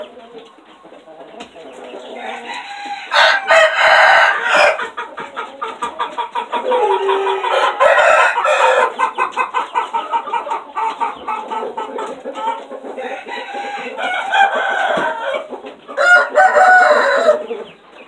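Roosters crow repeatedly over steady clucking from a flock of chickens, loud and close, the calls overlapping almost continuously with brief lulls between bursts.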